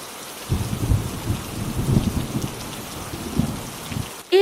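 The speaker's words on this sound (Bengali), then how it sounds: "এই বৃষ্টি তো কয়েকদিন থেকে থামছেই না" Heavy, steady rain pours down in a storm with deep rumbles of thunder rolling underneath, a continuous wash of sound with no voices.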